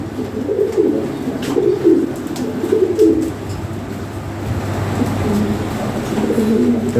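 Breeding pairs of European Lahori Sherazi pigeons coo in low, rolling bursts close by, several birds overlapping in a steady murmur with no talk.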